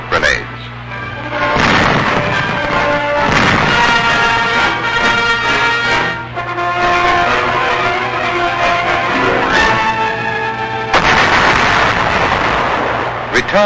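Battle noise from 1945 Okinawa combat, tanks under direct fire amid smoke grenades, with loud booms and bursts that run on steadily under orchestral music throughout.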